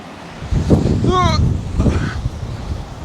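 Wind gusting across soft sand on a beach at Sutton on Sea, a roaring broadband rush under a voice that mutters briefly mid-clip.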